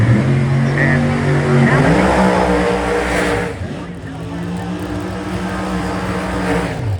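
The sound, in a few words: race car engine at the track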